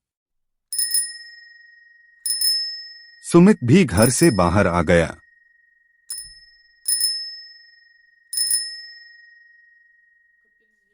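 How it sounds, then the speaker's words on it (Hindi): A bicycle bell rung in a home courtyard, in several sharp bright dings spread across the clip, with a voice speaking briefly between the rings. "घर के आंगन में पहुंचकर साइकिल की घंटी बजाने लगा।"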